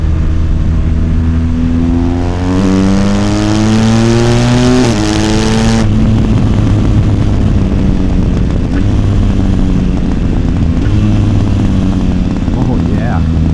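A motorcycle fitted with a BT Moto tune and Michelin Road 6 tires revs and accelerates up close, its engine note rising through the gears with loud, rough exhaust and wind noise.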